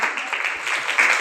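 An audience claps at a National Girl Child Day 2024 award ceremony, with certificates and mementos given to girls. The applause is a brief, dense, steady patter that swells slightly near the end.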